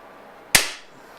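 A single sharp crack from a Beeman P1 .22 caliber air pistol, loud and close, with a short decaying tail in an otherwise quiet space.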